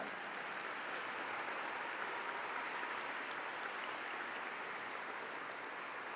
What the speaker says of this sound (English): let's give Congressman Oberstar a round of applause